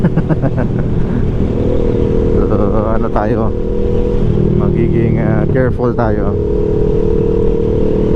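A Kawasaki Z650 motorcycle being ridden at an easy pace, its engine droning steadily throughout with constant wind noise, while someone talks over it.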